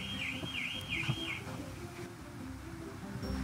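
A repeating electronic alarm warbles in four quick rising-falling sweeps near the start, then stops, over steady indoor background noise.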